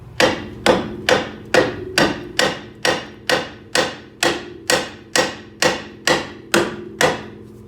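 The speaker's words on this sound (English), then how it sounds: "We're gonna hit with a hammer at the top of the steering knuckle" A hammer strikes the top of a Honda Civic's steering knuckle during a front lower ball joint replacement in a steady rhythm, about a dozen sharp ringing blows spaced evenly, each with a short metallic decay, close and loud.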